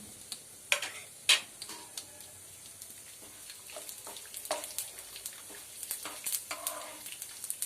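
Mustard seeds, chana dal and dried red chillies tempering in hot oil for a drumstick leaf curry, giving sparse faint pops and crackles scattered through a quiet sizzle, with no talking.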